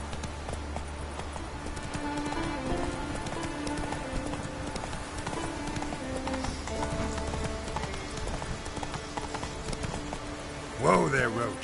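Hooves of Roach, a horse in a PS4 video game, clip-clop in a steady rhythm with a brief whinny near the end, heard alongside game sounds and voices.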